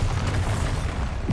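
Bombarda spell cast in Hogwarts Legacy on PS5, a dense rumbling blast with low booming energy filling the moment, loud and close with no speech.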